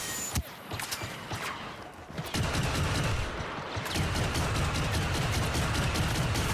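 Star Wars Battlefront 2 blaster gunfire on Kamino: rapid bursts of sharp repeated shots, loud and dense, building into sustained firing with mechanical clatter.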